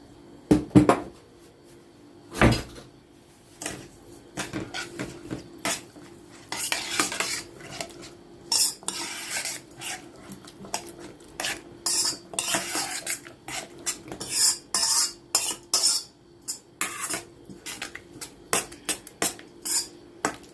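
Bulgur and a small glass of hot water go into a pot, then a spoon stirs it with repeated clinks and scrapes against the metal, the clatter growing busier and steadier toward the end, no voices present.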